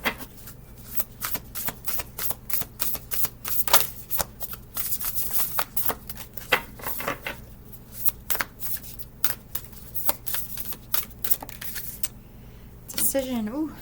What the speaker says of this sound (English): Make sure I shuffle these right.